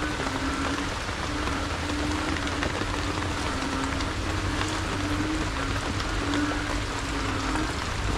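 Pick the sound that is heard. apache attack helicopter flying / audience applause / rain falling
rain falling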